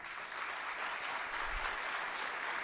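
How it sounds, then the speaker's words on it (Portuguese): Steady applause from an audience at a university colloquium greeting a visiting lecturer, even and sustained but fairly quiet and distant. "convidamos a todos a saudar o ilustre conferencista com uma salva de palmas"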